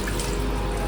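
Water running from a tap in a train bathroom on an orange mini Vande Bharat, a brief steady close gush of flowing water.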